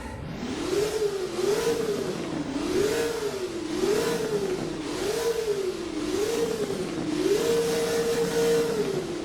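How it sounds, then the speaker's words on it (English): A Hennessy Venom F5 Revolution Roadster in the Driving Empire video game revs repeatedly in neutral, its loud engine note climbing and falling in about seven steady, rhythmic surges before holding a sustained high rev near the end. "Now let's put this thing in neutral and rev it up."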